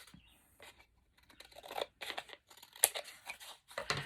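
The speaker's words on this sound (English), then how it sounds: "I think I'm going to trim this down a little more neatly as best I can" Scissors snip and trim paper while decorating handmade journal signatures, with several crisp, close cuts spaced irregularly amid quiet rustling and handling, one sharp snip standing out near the end.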